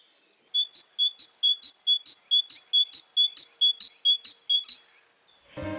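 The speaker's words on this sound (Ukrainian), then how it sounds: "Це своїм співом весну зустрічає синичка." A great tit repeats a bright, high two-note call about a dozen times in steady rhythm, clear and close, ending with a brief rustle.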